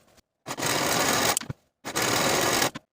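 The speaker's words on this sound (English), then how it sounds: "Sew your side seams with a 5/8 inch seam allowance and serge your seams to finish" A sewing machine stitching the side seams of an asymmetric skort in two close, even bursts of rapid whirring, each lasting about a second, separated by a short pause.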